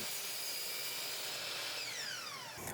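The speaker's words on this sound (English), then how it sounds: "I'll start at the miter saw by cutting 2 15-degree angles on either side" A miter saw in a woodshop whines at a steady pitch while cutting a 15-degree angle on a wooden picnic-table seat rail, the tone falling near the end as the blade spins down; quiet and alone.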